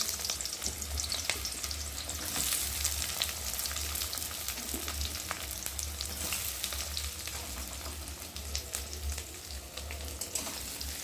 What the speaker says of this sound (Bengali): ওই তেলের মধ্যে এখন আমি দিয়ে দেবো কেটে রাখা পেঁয়াজগুলোকে, দিয়ে ভালো করে ভেজে নেব।